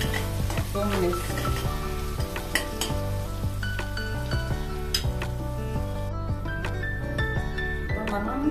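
Chilli powder, coriander powder and tamarind frying in a pan for brinjal curry, with a close sizzle under repeated metallic stirring scrapes and clinks against the pan, somewhat irregular, with a faint background voice.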